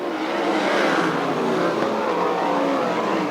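USAC/CRA sprint cars race around the Hanford, California track, a loud continuous engine roar with passing cars blending into a steady, dense drone throughout.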